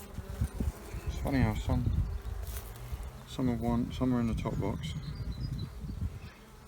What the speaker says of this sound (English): Not a lot of bees in this top box